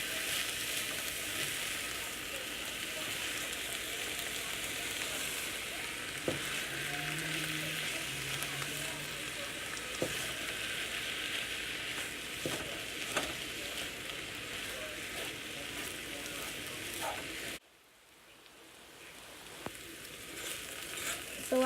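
Mustard and turnip greens fry in a pan with a steady, dense sizzle and crackle and occasional stirring clicks, continuing close and fairly loud before dropping abruptly near the end to a quieter sputter.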